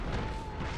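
A firestorm spell in Dark Souls 2: Scholar of the First Sin, a brief, dense roaring blast of fire with a heavy low rumble, loud and sustained for under a second.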